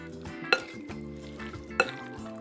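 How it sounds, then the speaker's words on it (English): An olive oil mixture for chicken quesadillas is stirred in a bowl, with quiet scraping and two sharp clinks of a utensil against the side, close and without talking. "I just want to give this a mix."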